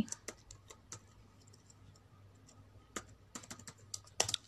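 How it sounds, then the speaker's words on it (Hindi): Quiet, close clicking of keys as someone types into Google Chrome on a computer keyboard, irregular taps with a short pause and a quick burst near the end. "हम अपना गूगल क्रोम ओपन कर लेते हैं और उस पर टाइप करते हैं डब्ल्यू थ्री"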